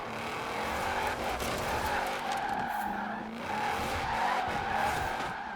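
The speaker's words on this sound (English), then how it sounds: "This car literally is just trying to drift everywhere." Tyres on a Shelby 1000 in Forza Horizon 4 squeal and skid loudly as the car slides sideways, with rising and falling screeches over a continuous engine drone and no talking.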